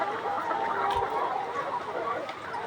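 A flock of 153-day-old layer hens clucks in a poultry shed, a continuous murmur of overlapping soft clucks with no single bird standing out.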